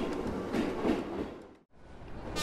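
An animated shaved-ice ghost train departs with a steady rolling rumble and rail clatter, briefly dropping out before resuming, with no voices.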